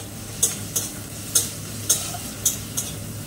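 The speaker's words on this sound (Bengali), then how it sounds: "আমি পেঁয়াজটা ভাজতে দিয়ে দিয়েছি" Onions frying in a pan, with a constant sizzle under several sharp clinks and scrapes of a spoon stirring against the pan at irregular intervals, close and clear, no talking.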